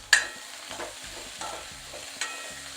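Chopped bell peppers with broccoli, mushrooms and salt scraped and stirred in a hot pan, a few distinct utensil strokes over a faint steady sizzle, close and alone.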